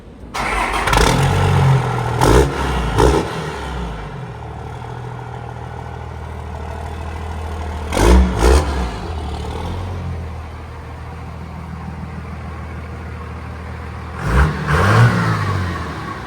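A lifted second-generation Cummins diesel pickup truck on a test drive, its engine droning steadily with three strong revving surges, close and loud throughout.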